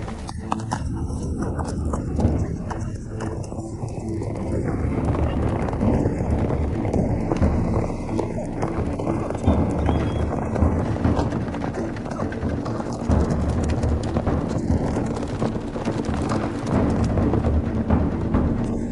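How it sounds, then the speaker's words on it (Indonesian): A charge of galloping horses, a dense continuous rumble of many hooves pounding and clip-clopping, loud and sustained with a thundering roar throughout and no clear voices. "Benar ada kuda yang menyerang ke arah kita."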